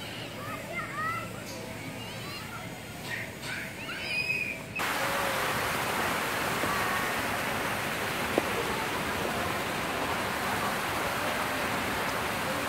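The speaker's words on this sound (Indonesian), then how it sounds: "Di antara bunga-bunga ada air terjun" An artificial waterfall in a flower garden pours continuously, loud and close; faint birdsong and a voice are heard briefly before the roar fills everything.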